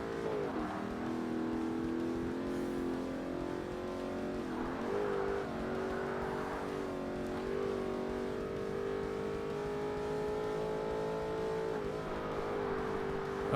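An A-class race car's engine in Forza Motorsport drones steadily and fairly loud, its pitch rising and falling through gear changes and throttle lifts as it drives a crested, cornering track, with no talking.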